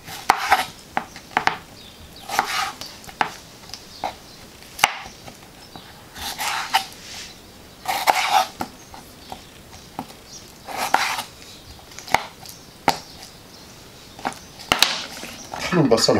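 A knife chops through tomatoes on a board, sharp irregular knocks of the blade repeating close by, some quick in succession and others spaced, with light clatter of kitchen utensils around them.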